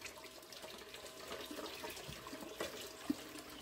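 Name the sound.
water flowing over gold concentrating table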